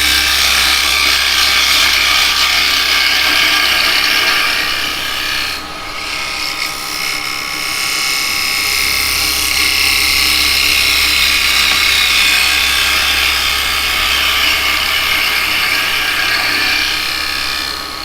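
A half-inch spindle gouge cuts yew on a wood lathe, giving a steady, close scraping and shaving hiss that runs the whole time with a brief dip midway and no talk.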